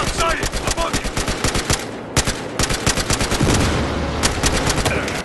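Dense gunfire in the video game Battlefield Hardline, with rapid automatic bursts and sharp single shots cracking continuously and loudly, while a voice speaks faintly beneath.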